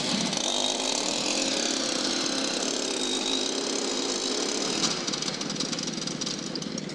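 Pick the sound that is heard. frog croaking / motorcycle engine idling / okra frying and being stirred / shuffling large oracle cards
motorcycle engine idling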